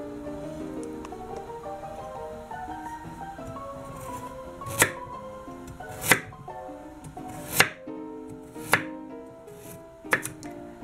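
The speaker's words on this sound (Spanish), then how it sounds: "Ahora estamos con la zanahoria, que la hemos pelado y ahora la vamos a cortar en rodajitas." A knife cuts a peeled carrot into rounds on a cutting board, giving five sharp, evenly spaced chops spread over several seconds above a steady hum of kitchen background noise, with no talking.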